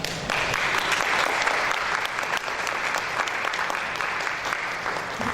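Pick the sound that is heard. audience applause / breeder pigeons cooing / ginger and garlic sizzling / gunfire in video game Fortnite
audience applause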